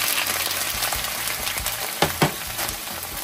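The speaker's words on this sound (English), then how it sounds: "We're ready to toss our shrimp in there." Shrimp searing in heated oil in a pan for a coconut curry, a loud continuous sizzle with a couple of sharp stirring scrapes near the end.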